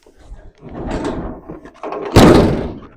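A metal hatch on a 1991 John Deere 1177 S2 combine harvester shuts with one loud, close slam near the end, after a few softer knocks and rattles as it is swung closed.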